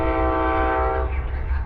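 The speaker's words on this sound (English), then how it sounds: "train number 5, the California Zephyr." Amtrak train number 5, the California Zephyr, arriving at Martinez, California, its horn sounding loud and sustained at close range over the rumbling engine, then the horn ends and the train keeps rumbling.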